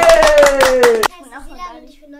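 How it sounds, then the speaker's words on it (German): A small group claps for a four-year-old girl while adults and the child chatter over the top. The claps are close, quick and irregular, then stop abruptly halfway, leaving faint voices. "Hast du einen Applaus, komm!"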